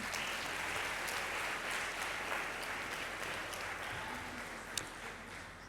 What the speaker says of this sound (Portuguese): Vou pedir uma salva de palmas para esse painel.